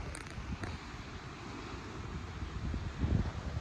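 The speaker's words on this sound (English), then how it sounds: "The higher I get, the more windy it was" Strong wind gusting over the clifftop at Tintagel Castle, a steady roar of buffeting and microphone rumble with no talking, swelling louder near the end.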